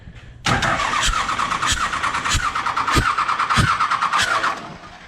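A Cummins diesel engine cranks over during a compression test, a loud, steady churning run with regular pulsing beats that cuts in abruptly near the start and carries on alone until the end.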